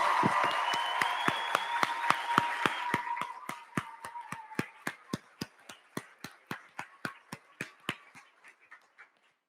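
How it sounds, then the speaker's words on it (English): Applause from a graduation ceremony audience, dense at first and thinning into a slow run of single, distinct hand claps that fade out near the end, with a faint tonal voice or whine over the opening. "Let's give them another applause."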